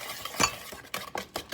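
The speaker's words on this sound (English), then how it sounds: "we're gonna take a whisk and just mix everything all together" A whisk beats eggs into banana bread batter in a bowl, making several quick scraping, clinking strokes against the sides at an uneven rhythm, close and moderately loud.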